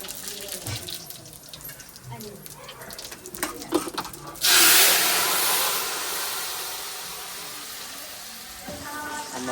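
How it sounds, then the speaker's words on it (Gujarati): Vegetables for sev tameta shaak hit hot oil in a tempering, bursting into a sudden loud sizzle midway that then settles into a long, slowly fading hiss, after a stretch of quiet clattering and faint voices. "કાકી શાક વઘારે છે અમારે"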